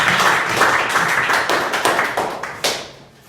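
A group of schoolchildren in Azamgarh, Uttar Pradesh, claps close by in a dense, loud burst that thins into scattered final claps.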